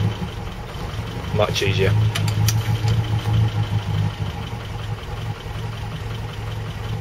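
Land Rover Series 3 engine ticking over at a steady idle, a low even rumble running throughout while someone speaks briefly over it.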